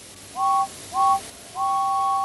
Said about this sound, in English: "Thank you, Gordon," whistled James